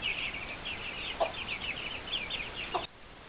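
Chickens clucking near a spot where chicks have hatched, a steady stream of bright, close clucks with a couple of sharper calls, cutting off abruptly near the end.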